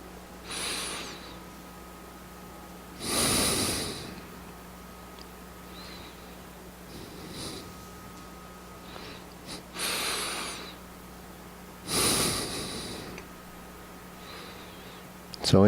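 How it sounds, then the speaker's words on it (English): Slow, deep breaths during tai chi standing meditation come at spaced intervals, each a loud drawn-out inhale or exhale with quiet stillness between. "Okay, deep breathing."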